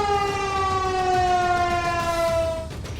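A civil defense air raid siren, sounded during a mock drill at buildings such as administrative offices, police headquarters and fire stations, wails loud and steady on one sustained tone before sliding down and cutting off near the end.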